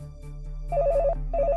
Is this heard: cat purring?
no